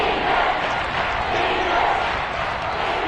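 Crowd noise in an American football video game swells before a big third down, a dense steady roar that fills the whole stretch with no pauses.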